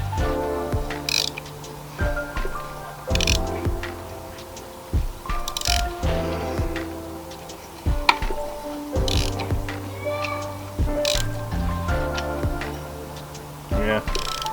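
A replacement engine for a drift Mustang is turned over by hand with a socket on the crankshaft with the spark plugs still in. Rhythmic ratchet clicks and periodic compression puffs repeat steadily beneath a voice.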